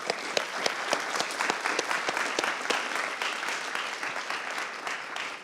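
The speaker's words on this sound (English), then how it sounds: "So another round of applause like the first speaker encouraged at the beginning," A crowd at a hackathon closing ceremony applauds steadily, with a full wash of clapping that has distinct sharp claps near the start before settling into an even roar.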